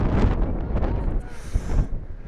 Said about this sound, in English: Oh, it's getting quite windy here.